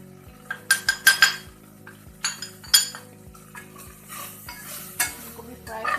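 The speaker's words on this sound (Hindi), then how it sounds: "इसको भी फ्राई कर लेंगे।" Spices and tomatoes stirred in a frying pot with a spoon scraping metal, several clinks and scrapes over a steady low sizzle, close and fairly loud, no talking.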